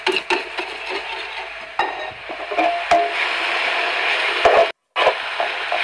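Wooden spoon stirring a mushroom tart filling of fresh goat cheese, spinach and thick crème fraîche: steady close scraping and rubbing strokes with small knocks, continuous for several seconds with a brief pause near the end.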